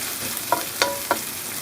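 Garlic frying in a well-seasoned non-stick pan, a steady close sizzle broken by three quick scraping stirs, with no talk.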